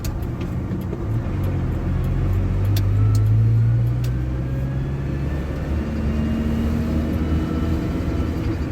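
GAZ 2790 van engine idling with a knocking fault after a tensioner replacement, a loud steady low rumble with a rising and falling hum, near and alone.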